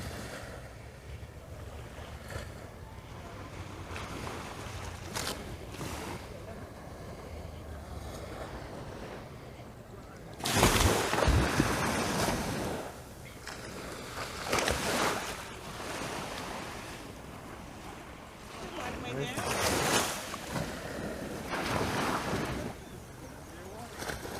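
Waves wash onto the beach at Carlisle Bay in surges, with wind buffeting the microphone and a few louder breaking swells rising and fading.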